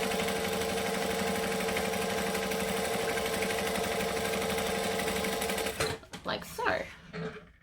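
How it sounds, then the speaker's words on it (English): A sewing machine runs steadily on a top-stitching decorative stitch, sewing a bag seam about 1/8 inch from the previous seam; its fast, even whirring rattle fills most of the clip, then stops as a brief spoken phrase follows. "I'm going to stitch 1/8 of an inch from the seam I just created"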